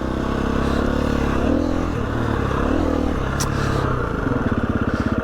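Motorcycle engine pulling hard in second gear for a wheelie, a steady loud drone that rises in pitch, then a rapid pulsing throb near the end, with wind noise and a brief scrape.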